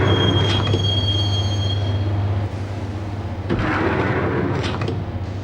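A subway train ride in the Max Payne video game: a steady loud rumble of wheels on rails with a whining squeal. Later the hum drops a bit under rattling clanks and metallic screeches as the carriage rolls on.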